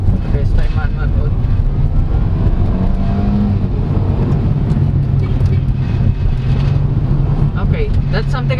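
2022 Kia Stonic Style Edition automatic accelerating in manual mode, a loud, close engine drone rising and then dropping as it upshifts, with cabin rumble and a person talking over it.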